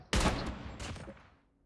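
Gunfire in Call of Duty Mobile: a sharp close burst of shots hits at once and fades, followed by a second shorter volley that trails away into silence, all within under two seconds.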